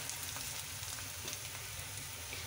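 Dried fish bhuna fries in a pan with a steady, faint hiss and crackle that holds evenly throughout, without talk.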